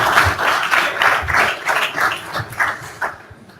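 An audience claps to welcome a speaker to the table at a simulation conference plenary, a moderately loud patter of hands that thins out and fades toward the end.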